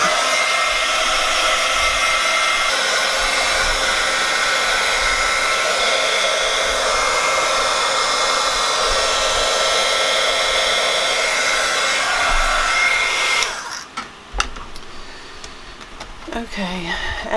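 A hair dryer drying an art journal page blows loudly and steadily for about thirteen seconds, then cuts off, leaving quieter handling noises.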